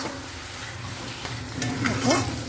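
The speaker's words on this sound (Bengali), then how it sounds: "সামান্য পরিমাণে চিনি দিয়ে ভালো করে নাড়িয়ে নেব।" A spoon stirring prawn curry in a pan after a pinch of sugar goes in, soft scraping and a low sizzle close by, with a few brief clinks near the end.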